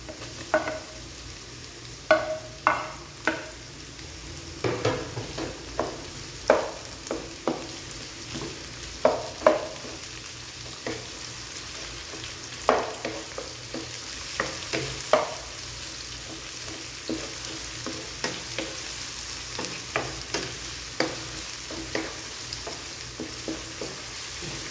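Onions sauté in a pan for chicken kinunot, a steady close sizzle broken by frequent sharp scrapes and knocks of a spatula stirring them, irregular through the whole stretch with no voices.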